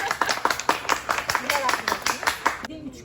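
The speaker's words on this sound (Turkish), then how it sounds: "Bir alkış alır mıyız hanımefendi?" Applause requested from a woman on a show filmed at a house with a garden: a few people clapping in a quick, fairly regular rhythm, close by, with voices mixed in, stopping abruptly near the end.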